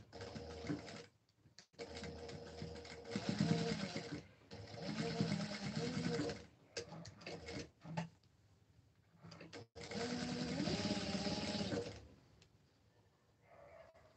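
A sewing machine stitches a fabric face mask of silk and cotton layers over the elastic in several bursts, moderately close, with someone talking over much of it.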